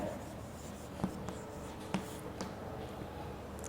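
Pen or chalk writing during a general knowledge lesson in a classroom, a few faint scratchy strokes with soft taps at quiet moments, no talking.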